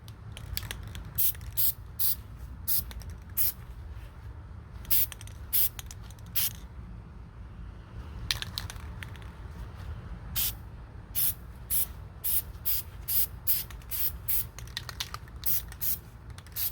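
An aerosol can sprays a final coat of paint onto an AR-15 upper receiver, a string of short, sharp hissing bursts separated by pauses, close by with a low background hum and no talking.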